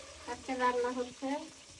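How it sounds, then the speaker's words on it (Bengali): Kaita fish frying with onions over a wood stove, a close sizzle with brief bursts of stirring and hissing oil. "কাইটা মাছ পেঁয়াজ দিয়ে ভুনা করবো"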